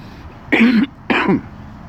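Two sharp coughs in quick succession, close and loud, with a short pause between them against a quiet background.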